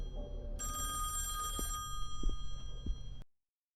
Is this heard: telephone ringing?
yes